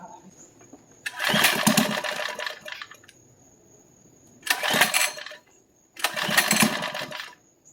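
A small mini bike engine, its head shaved for more compression, is pulled over in three loud bursts, the last catching and running briefly before dying, with a steady high whine in the background.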